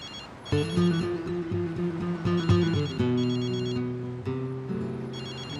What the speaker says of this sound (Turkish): Telefonun çalıyor Elif